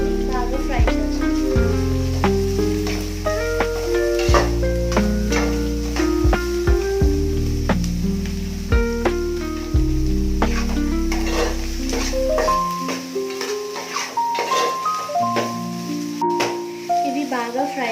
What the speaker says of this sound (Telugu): బాగా ఫ్రై చేస్తాం.